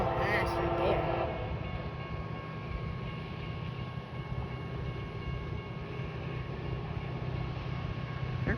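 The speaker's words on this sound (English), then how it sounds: "You hear those locomotives?" A CSX freight train led by two SD40-3 locomotives rumbles past in a loud, steady roar with a continuous low drone. A brief hiss opens the pass, and people talk over it.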